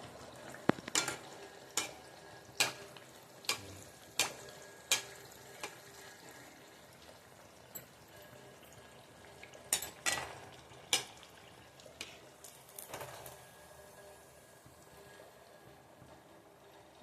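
Dudura pitha frying in a pan, a quiet low sizzle under a series of sharp clinks and taps as the cakes are turned, irregular knocks spaced a second or so apart.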